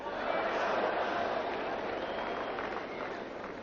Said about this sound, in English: the crowd get behind their favourite players